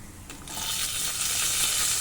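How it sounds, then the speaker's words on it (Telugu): Cumin and coriander seeds roasting in a spoonful of oil in a pan, a steady bright sizzle that swells after a brief quieter start and holds close and even without any talk. "ఒక పాన్ తీసుకొని దాంట్లో ఒక స్పూన్ ఆయిల్ వేసుకొని ఒక స్పూన్ జీలకర్ర ఒక స్పూను ధనియాలు ఈ విధంగా రెండింటిని వేయించుకోండి"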